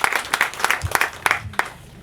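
A small gathering at a house opening ceremony gives a brief round of applause, with loose, uneven hand claps close by.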